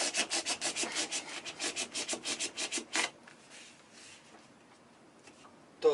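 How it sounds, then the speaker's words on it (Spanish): Rhythmic rasping strokes of a blade cutting through the insulated casing of a compressor fridge, about a dozen close, even strokes over three seconds, then a quieter scraping stretch. "lo que voy a hacer ahora, eso sí que ya no tiene marcha atrás, que es cortar aquí"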